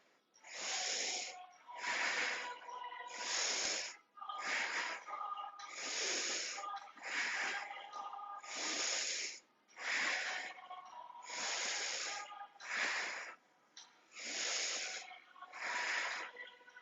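Forceful rhythmic breaths during a yoga leg-raise exercise, a dozen loud hissing inhales and exhales in steady succession, close and clear with no talk.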